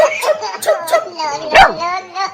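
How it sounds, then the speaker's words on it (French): A dog giving short excited yips and whimpering barks while chasing a running figure, close and loud, with voice-like cries blended in. "Il est poursuivi par un chien."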